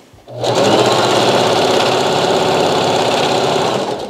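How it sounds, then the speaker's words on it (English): A sewing machine runs continuously and loudly up close while backstitching satin fabric for a double-layer bonnet, a steady fast mechanical hum and chatter of the needle, with no talking. "All I do is go down and let it up and it backstitches back stitch, go front and back"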